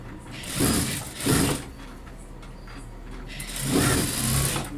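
A sewing machine stitches a blouse in two quick mechanical bursts, pauses with a faint hum, then runs again in a longer burst, close and clear with no talk.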